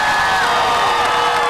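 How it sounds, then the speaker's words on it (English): A graduation crowd cheers and applauds for the high school wrestlers, a dense, steady roar of shouts and whoops carrying loud and unbroken throughout. "Let's give the wrestlers an applaud."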